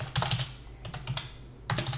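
Typing on a computer keyboard while entering a Java source file name in Notepad: a few bursts of quick, close key clicks separated by a brief pause, with no speech.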